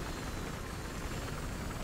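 Helicopter in the video game Battlefield Hardline, a loud, dense, continuous rotor and engine roar filling the whole moment without pause.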